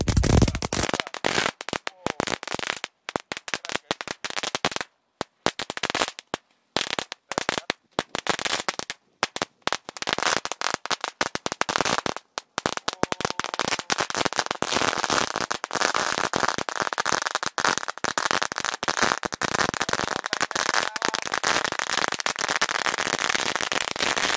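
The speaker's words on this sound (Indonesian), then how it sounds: "Mercon tank 2 kardus spesial menuju Ramadan 2000." A long, dense barrage of two boxes of mercon tank firecrackers, sharp cracks bursting rapidly and irregularly, building into near-continuous loud crackling toward the end.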